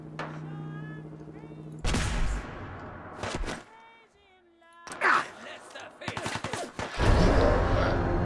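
Sniper rifle fire in the video game Fallout 4, several sharp gunshot bursts separated by quieter gaps, with game sounds between them.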